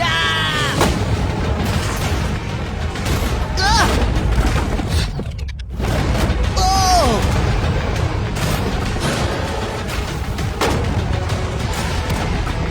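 Gunshots fired at a shipping container ring out as repeated sharp booms spaced through the stretch, loud against steady background noise, with people talking and reacting between shots.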